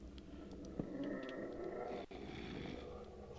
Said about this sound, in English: I hear pretty evil howling here.